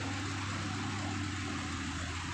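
A Volkswagen Beetle engine runs at a steady idle at Merak port, a continuous low, even hum close by with no breaks.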